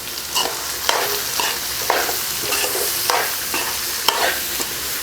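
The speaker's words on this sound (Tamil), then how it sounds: "வெங்காயம் நல்லா வதங்கட்டும்." Onions sauté in a pan over a steady sizzling hiss while a spatula stirs them in regular scraping strokes.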